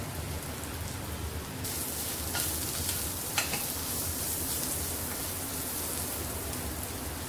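Asafoetida drops into hot oil and sizzles with a dense, steady crackling hiss close by, a few sharper pops breaking through, with no talking.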